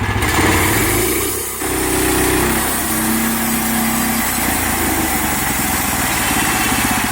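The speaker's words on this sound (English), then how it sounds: "So adjustments made, and here we go, folks. Final cut of the Sawmill Olympics." A sawmill engine runs loud and steady through the final cut of a log at a sawmill competition, with a brief dip in the drone early on before the blade resumes its continuous whine.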